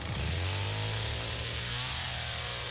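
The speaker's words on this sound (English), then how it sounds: "He turned his chainsaw on in front of me" Chainsaw revving in a horror video game, a loud, dense, continuous buzzing engine drone close up.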